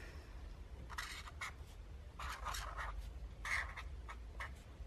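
A pen scratching as it writes across an art journal page, three short bursts of soft, close scribbling over faint background hiss.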